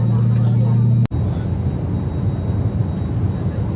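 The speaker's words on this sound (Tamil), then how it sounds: "ஃப்ளைட்டு டேக் ஆஃப் ஆகிடுச்சு" An airliner takes off on an international flight, heard from inside the cabin as a loud, continuous engine roar that briefly cuts out after about a second, then resumes steadily.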